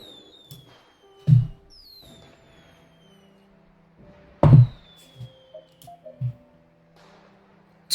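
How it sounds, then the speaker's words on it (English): Fireworks exploding in the sky, heard as a few sharp booms spaced several seconds apart, the first two strongest and followed by softer pops, with whistling rising tones between bursts over otherwise quiet surroundings. "The fireworks that are shooting and illuminating the sky all around us"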